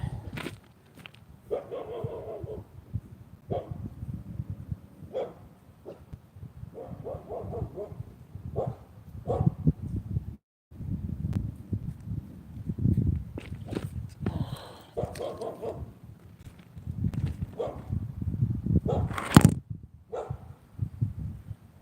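A dog barks repeatedly, sometimes in quick yips and sometimes with a whimper, while people talk and move around nearby during an end-of-2019 fireworks setup outdoors; the barks are mid-distance and mixed in with the chatter and footsteps.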